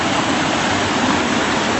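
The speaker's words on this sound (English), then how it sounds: "There's the creek where it's roaring in." Water roars steadily along a rural creek, a loud, continuous rushing wash close by with no break or other sounds.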